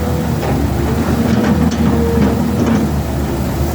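A Kobelco SK200-6 excavator's diesel engine runs steadily and close by, a loud continuous low rumble with a faint mechanical whine on top and no speech.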